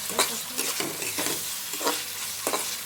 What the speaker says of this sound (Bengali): এখন আমি মাছগুলো দিয়ে দেবো, মাছটাকে একটু কষিয়ে নিয়ে